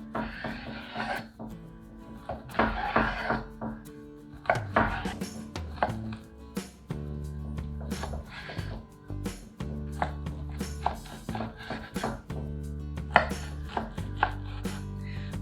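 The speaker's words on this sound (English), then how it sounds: "I'm gonna take 2 ham steaks and cut them up into about 1-inch squares." Knife chopping two ham steaks into roughly one-inch squares on a cutting board, a steady series of close, sharp knocks and cuts with brief pauses, no talking.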